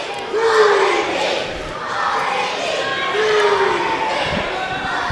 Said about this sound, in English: The cheering section is accumulating now.